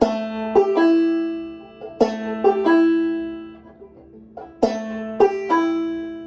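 A banjo plays a short clawhammer pattern, bright plucked notes ringing out in a steady, bouncing rhythm with a drone string, close and clear.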